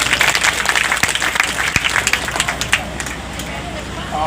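A crowd at a Shrimad Bhagavat Katha religious gathering breaks into loud, dense applause with sharp individual claps, which gradually thins out while voices carry on underneath.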